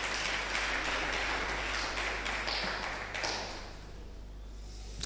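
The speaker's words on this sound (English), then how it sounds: "a round of applause for her." Steady applause from an audience at a university lecture, a dense wash of clapping that fades somewhat toward the end with a low hum beneath.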